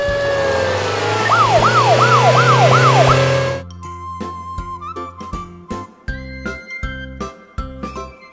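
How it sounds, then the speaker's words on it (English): A police car siren yelps in rapid rising and falling cycles over an engine rumble, loud and close, then cuts off abruptly and gives way to plinking musical tones. "Police car."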